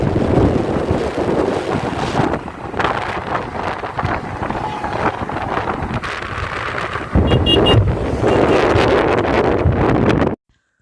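Riding on a motorbike in chilly weather, with heavy wind roaring and buffeting the microphone continuously, loud and close, surging louder partway through before cutting off abruptly at the end; no voices.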